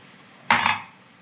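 A frying pan is set down on a stove, giving a single brief metallic clunk and clatter that fades quickly into quiet.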